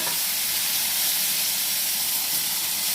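Onions and tomato sautéing in a pan give a continuous, even sizzle and hiss, close by and fairly soft, with no other sounds.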